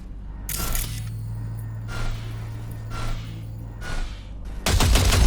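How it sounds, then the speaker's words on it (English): Automatic gunfire in Cyberpunk 2077 rattles out in short bursts into a pile of junk, several brief volleys over a low steady hum, ending in a louder, denser burst. "See that pile of junk? Fire a short burst into it."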